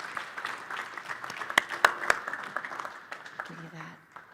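Audience clapping for a speaker named Yvonne at a spiritual talk, a steady patter of applause with a few sharp, louder claps partway through, fading toward the end.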